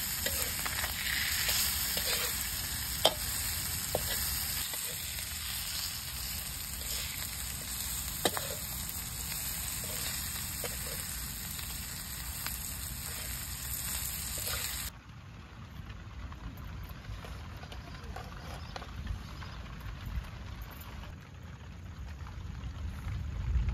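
Catla fish frying in a pan while being stirred, with fresh coriander sprinkled on top; a dense, continuous loud sizzle with scraping stirs, which softens partway through.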